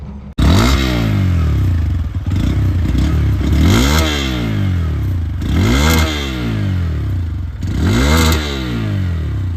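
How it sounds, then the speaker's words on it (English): A 2025 Bajaj Pulsar N125 motorcycle with a new engine starts up and is revved hard three times, each rev swelling and falling back to a close, loud, burbling idle between. "सुन लो bike."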